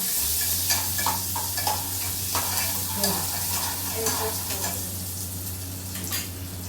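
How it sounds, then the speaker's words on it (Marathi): Onion and garlic sautéing in a pan at home, a continuous sizzle with frequent spatula stirring and scraping, steady low hum underneath, no voices. "हा आता हे कांदा टाकले, लसूण टाकलं, आता हे जरा परतून घ्यायचा."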